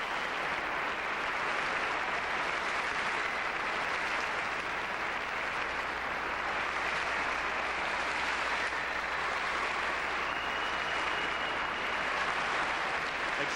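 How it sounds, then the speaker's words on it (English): Ecstatic applause fills an arena after Isabelle and Paul Duchesnay's 1990 Skate Electric exhibition ice dance, a dense, continuous roar of clapping from a large distant crowd, unbroken throughout. "Ecstatic applause for a quite superb programme."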